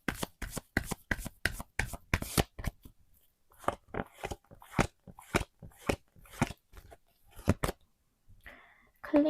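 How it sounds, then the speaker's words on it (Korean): Tarot cards riffled and shuffled in rapid, crisp bursts, then slower individual snaps as cards are drawn, close to the listener, with a soft voice appearing briefly near the end. "먼저 결론 카드에 대해서 보조 카드를 한번 뽑아볼게요"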